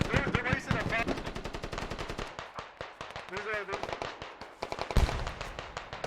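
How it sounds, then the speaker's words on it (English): Video-game infantry firefight in trenches: rapid machine-gun bursts and sharp rifle cracks rattle continuously, punctuated by a heavy grenade blast, with voices and radio chatter woven through the battle. "it is a huge infantry firefight in the trenches. Grenades going off."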